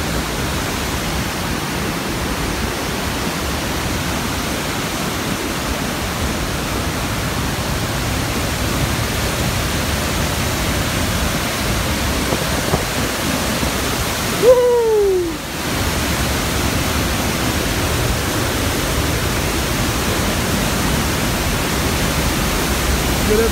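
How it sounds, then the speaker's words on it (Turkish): A natural waterfall fed by snowmelt in the Kaçkar Mountains at Ayder plateau, Palovit falls, roars in a loud, constant, dense rush close by, with a brief whistle-like chirp partway through. "Arkadaşlar, bu şelale doğal şelaledir."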